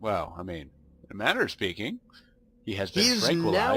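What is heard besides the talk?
None of the usual background noises is heard.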